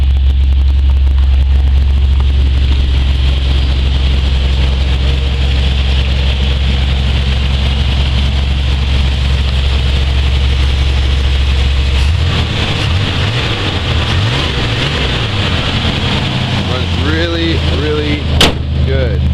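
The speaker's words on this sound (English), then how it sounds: "As you can hear it, this truck hasn't run since yesterday. That's a cold start." A 1992 Chevy truck engine idles steadily after a cold start, a loud continuous low rumble that carries through the whole stretch, with some shifting noise and faint voices toward the end.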